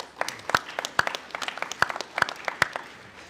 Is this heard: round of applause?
yes